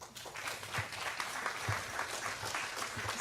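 A crowd gives a sustained round of applause at a women leaders' anniversary celebration, a dense, even wash of clapping hands that holds steady throughout with no voices over it.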